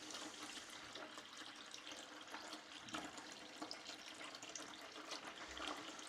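Aquarium water runs steadily through a siphon hose into a bucket during a water change, a soft continuous trickle and splash that stays faint and even throughout.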